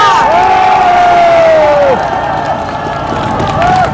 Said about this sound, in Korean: 여러분 안철수를 위해서 격려의 박수를 보냅시다.